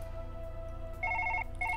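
In Surgeon Simulator 2013, a telephone rings with a trilling electronic tone in two short bursts separated by a brief pause, over a low steady hum.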